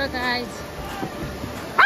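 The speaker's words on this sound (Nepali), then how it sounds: "कुकुर पनि कति कराउँदो रहेछ" A dog barks outdoors near a pig farm by a mountain stream, several yips rising over a steady background of voices and chatter, with a sharper bark near the end.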